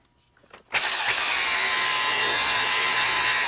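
A single-action polisher spins up abruptly and keeps a steady whining hum while buffing Mothers polish into an old, scratched motorcycle windshield.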